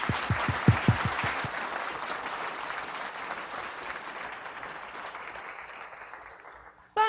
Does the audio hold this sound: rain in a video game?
no